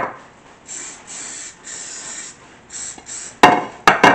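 Several short hissing bursts of a butter spray can greasing a soufflé pan, a steady series of pulses, followed by a couple of sharp clatters near the end.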